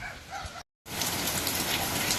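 Heavy rain pours down steadily in a continuous dense hiss of drops drumming on surfaces, broken only by a short cut of silence near the start.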